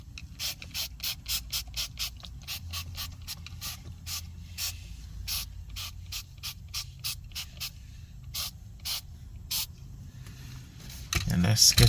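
A series of short, sharp spray bursts of Meguiar's Supreme Shine protectant from a spray bottle in quick succession, some evenly spaced and others in rapid pairs, over a low background rumble, ending in louder rustling.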